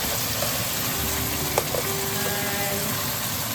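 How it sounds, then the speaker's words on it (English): Sri Lankan black chicken curry sizzles steadily in a pan, a dense continuous frying hiss, close and loud, with a faint stir or clink partway through. "you can see the sizzling sound"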